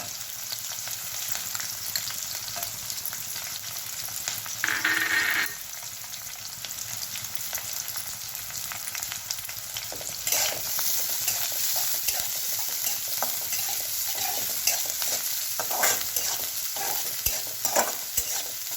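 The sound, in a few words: sautéing chopped onion and green chilli in a pan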